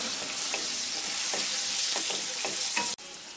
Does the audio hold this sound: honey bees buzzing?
no